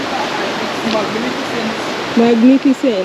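River water rushing continuously at a lakeside viewpoint in Kenya, a steady broadband wash throughout, with a voice speaking briefly over it near the end.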